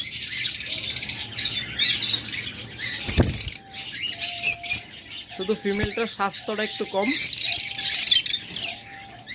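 Pet birds in a cage giving short chirps and squawky calls, some rapid and repeated, mixed with fluttering and shuffling, while a person talks nearby.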